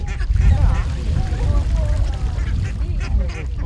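Ducks quacking in a park in Kremenchuk, with several calls scattered through a busy outdoor scene and people talking over them.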